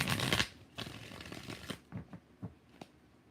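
Tarot cards being shuffled in several bursts: a long riffling rush, then quieter shuffling followed by a few sharp separate card slaps, close and alone with no talk.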